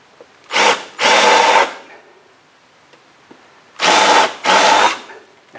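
A power drill drives number 12 by 1 3/4 inch stainless steel screws into a boat plank repair, with four loud, close whirring bursts in two pairs separated by quiet pauses.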